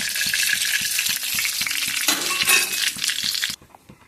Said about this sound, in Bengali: এখন ফোড়নটা দিয়ে দিলাম, শুকনো লঙ্কা, তেজপাতা, গোটা জিরে দিয়ে দেবো।